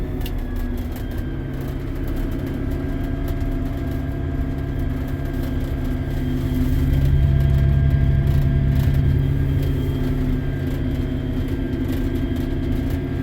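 A car driving: a steady low engine and road rumble inside the cabin, swelling somewhat louder midway, with no talking.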